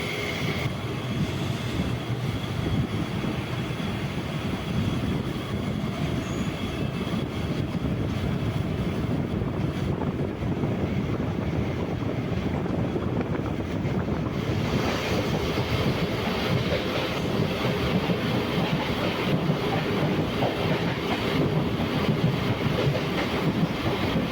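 A MEMU train runs at night between Punalur and Kollam, giving a loud, continuous interior rumble and rattle with steady clatter from the wheels throughout.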